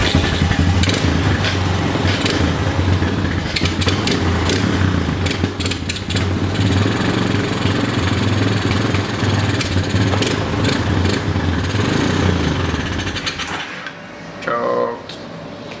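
Old ATV engine, hard to keep running, idling roughly up close with a loaded, uneven putter and some clattering, then suddenly cutting out near the end, followed by a brief quieter sound.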